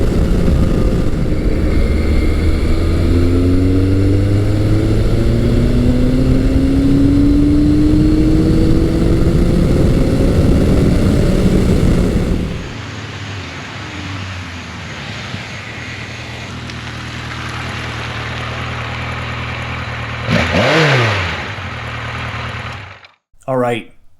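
Classic big-bore Yamaha motorcycles, an FJ1200, XS1100 and Maxim 1100, roar loudly and rise in pitch as they accelerate past, then drop to a steadier engine drone with another rising pass before a sudden cutoff.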